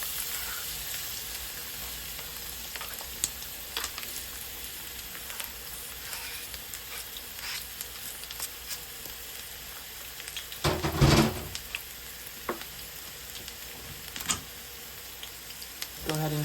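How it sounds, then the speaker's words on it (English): One whole minced medium white onion sizzling in oil in a pan, a steady close frying hiss throughout with a brief louder clatter of stirring near the middle, while a person talks at times over it. "I've minced up 1 whole white onion, a medium white onion, and we're just going to add that to our oil."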